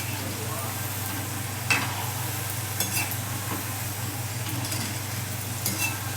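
Modaks frying in hot oil in a pan on a gas stove: a steady, continuous sizzle throughout, with occasional stirring clinks and someone talking over it.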